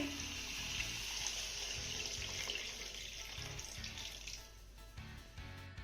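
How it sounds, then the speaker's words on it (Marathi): Hot water pours in a steady, fairly quiet stream into gravy, with faint low knocks in the background throughout. "इथे मी एक ते दीड ग्लास गरम पाणी यामध्ये घालतीये"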